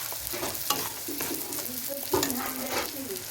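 Mustard-leaf paste with added salt and sugar is stirred in a pan, giving soft scraping strokes over a steady low sizzle, close and moderately quiet.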